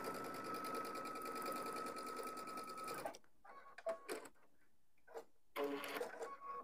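A sewing machine stitching fabric for a children's Christmas stocking runs in a steady, rapid mechanical whir for about three seconds, then stops, followed by a few quieter clicks and handling sounds.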